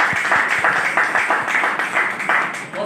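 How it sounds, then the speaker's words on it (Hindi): An audience at a company's monthly lucky draw ceremony gives loud, sustained applause, a dense wash of many hands clapping together with a slightly rhythmic pulse that lasts the whole time. "एक बार जोरदार तालियां।"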